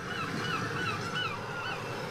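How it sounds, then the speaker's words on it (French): Recording of seagulls calling played back through speakers, a dense overlapping chorus of squawking cries continuing steadily throughout, moderately faint. "Les petites mouettes."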